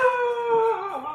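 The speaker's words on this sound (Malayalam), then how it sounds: "നായി ഉണ്ട് കേട്ടോ, നായി." A dog howls near a house in Kerala, one sustained wavering wail with clear tonal harmonics that dips in pitch near the end, loud and close with no talk over it.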